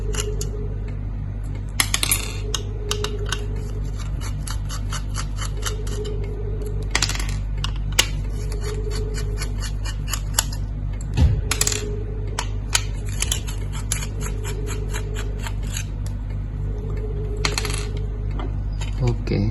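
Bolts being unscrewed from the controller board of a GZGMET 12V DC photoelectric smoke detector: a run of small, close metallic clicks and ticks repeating over a steady low hum.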